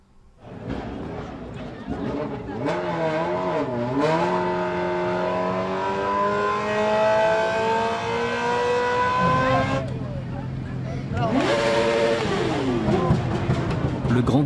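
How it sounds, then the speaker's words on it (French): Motorcycle engines rev up and climb steadily in pitch during the big parade of a three-day summer biker rally in Livno, a loud, sustained roar that dips and then surges again near the end. "Le grand défilé de motos est le point fort du rallye estival de 3 jours."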